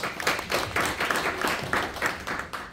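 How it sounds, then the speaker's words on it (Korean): An audience at a forum on air power generator development gives steady, moderately loud applause in a hall, continuous clapping for a few seconds with no talk over it. "다시 한번 박수 부탁드리겠습니다"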